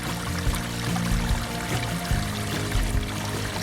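Water pours and splashes steadily through a gold-mining highbanker with a grizzly screen, testing gravel outdoors in Washington State, making a loud continuous rushing flow with small gurgling surges throughout.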